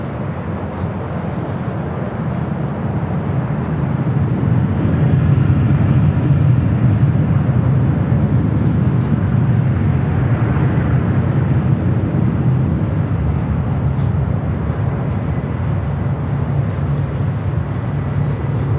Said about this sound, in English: Next arrival is Delta Airlines flight 2267 coming up from SFO on an A320